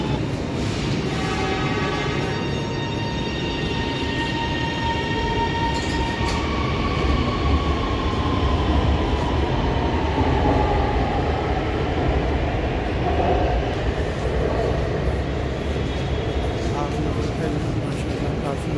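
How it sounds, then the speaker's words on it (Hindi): A train is heard from inside a carriage, with a constant loud rumble of wheels on track, faint squeals and clicks, and someone talking over it throughout. "कमाल की ट्रेन है जी, बहुत मज़ा आया इसके अंदर सफ़र करके।"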